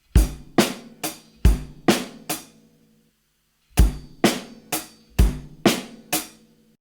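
Drum kit plays the first six-note group of a groove in 7, struck twice as two bars of six sharp hits with a gap between them, close and alone.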